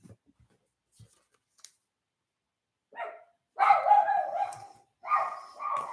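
Several dogs barking in short, loud bursts that come in two clusters near the end, after mostly quiet moments with a few faint knocks.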